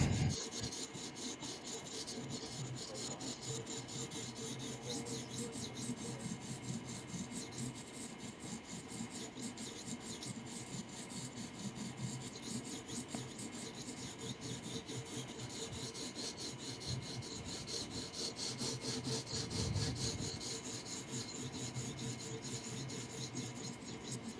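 A knife is reprofiled on a sharpening stone, a steady rasping scrape repeating without pause, close and continuous with voices talking over it.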